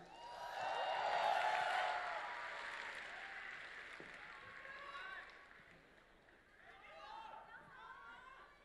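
Audience applause at a live crosstalk (xiangsheng) comedy show, a dense burst of clapping swelling early then tapering, with crowd chatter and performers' voices coming in over it toward the end.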